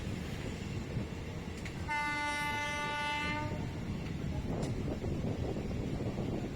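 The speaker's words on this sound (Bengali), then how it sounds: "ওই পাশে দাঁড়িয়ে থাকা কোনো একটি ট্রেন হয়তো এখন ছেড়ে গেল" A train pulls out of a station near Santragachi, sounding one sustained horn blast of about two seconds over a low, steady rail rumble, with a faint knock or two just before and after.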